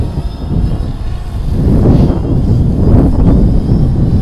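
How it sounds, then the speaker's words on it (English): A DJI Phantom 3 Standard quadcopter drone flies close by, its loud steady rotor whine and rushing buzz filling the whole stretch with no pause and no talk. "It's actually pretty safe and it's pretty quick drone to fly."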